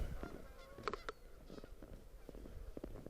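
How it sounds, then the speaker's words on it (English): Geese honk by a pond near a river, with several scattered calls at a distance, faint over an outdoor background with light rustling. "Lots of geese over there."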